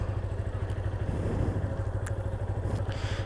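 A Yamaha FZ25 250cc motorcycle engine idles close by, producing a smooth, even low rumble that holds steady throughout, with faint clicks on top and no talking.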